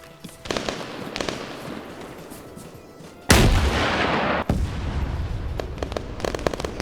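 Gunfire in a military shooter video game, loud rapid bursts and single cracks from several weapons in an outdoor firefight, with a heavier sustained volley through the middle.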